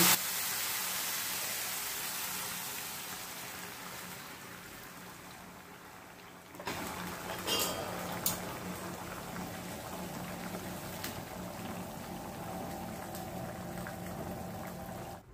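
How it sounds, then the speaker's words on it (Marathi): Boiling water is poured onto rice in a pot, a continuous rushing, bubbling hiss that settles and then swells into a louder churning boil with occasional clinks, close and without voices. "1 वाटी तांदूळ आहे म्हणून मी 2 वाट्या पाणी घालणार आहे, ते पाणी घालते"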